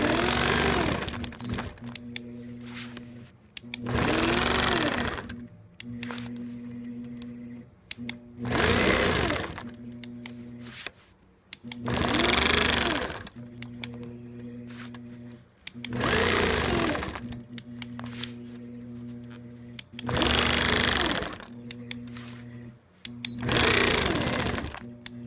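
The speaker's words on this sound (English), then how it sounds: "now I'm ready to start stitching, so I'm going to stitch from there up to this point." A sewing machine stitching a quilt runs in repeated bursts of several seconds with a loud, steady whir, stopping briefly between runs while someone talks in the pauses.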